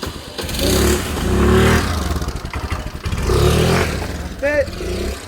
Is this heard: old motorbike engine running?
yes